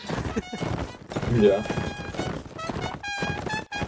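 Horses' hooves clip-clop in a quick, uneven rhythm as the animals are warmed up, mixed with a loud hum and voices chatting over the top.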